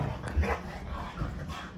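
Dogs play-fight indoors, chomping at each other's necks, with brief muffled growls, thumps and scuffles in a short close burst.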